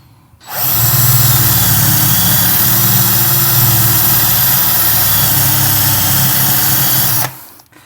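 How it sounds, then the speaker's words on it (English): A cordless drill bores a hole into a piece of music gear to get past a stripped screw, giving a loud, steady motor whine that starts abruptly, holds for about six seconds, then stops. "I can't believe how difficult it is to drill through this."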